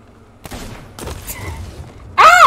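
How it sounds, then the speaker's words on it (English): A gun fires at a mermaid in Sea of Thieves, heard as a short cluster of sharp hits amid faint sea ambience, followed by a loud tonal splash-like burst at the end. "I'll shoot the mermaid"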